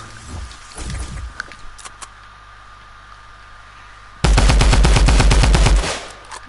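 Rapid automatic gunfire in a video game build battle, a dense loud burst lasting over a second after quieter scattered shots and clicks earlier, with no talking.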